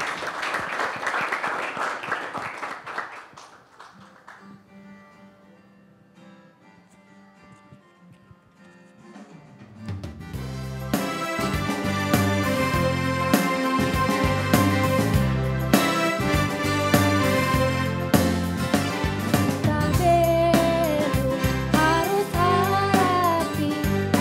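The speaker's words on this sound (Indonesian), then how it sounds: "Mana tepuk tangannya?" Crowd applause at a school event, a burst of clapping early on fading out, then after a quiet stretch loud sustained clapping returns for the rest of the clip, mixed with music.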